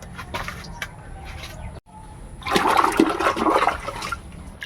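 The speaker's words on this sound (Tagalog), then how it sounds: "Yan, lalagyan ako ng tubig." Water pours into a container for soaking bougainvillea cuttings, a rushing, splashing stream that swells loud after a brief pause, with faint bird calls in the background.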